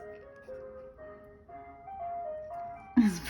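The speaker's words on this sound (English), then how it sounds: "It's the ice cream man." Ice cream truck chiming its stepped jingle melody while pulling into a residential cul-de-sac, heard faintly from a distance, with a louder close sound cutting in at the end.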